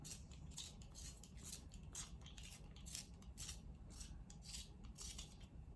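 A small lip liner pencil being sharpened gives a soft, steady scraping rasp with repeated strokes, close and quiet, with no talking.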